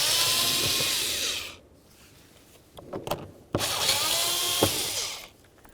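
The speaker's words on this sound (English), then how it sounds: "Let's remove our lower bolts now." Lower bolts on the rear driver's door panel of a 2007-2017 Ford Expedition being removed with a power tool, heard as two close, loud whirring bursts separated by a pause filled with faint clicks and handling noises.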